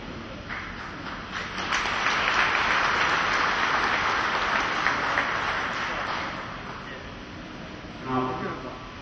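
Crowd applause at a Malaysian political rally, a broad sustained roar of clapping that swells after the first couple of seconds, holds, then tapers as a voice cuts in near the end.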